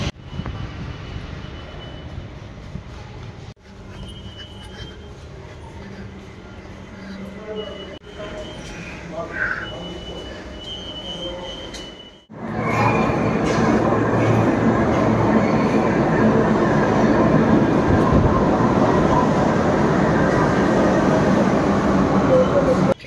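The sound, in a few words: metro train ride to Kalighat, Kolkata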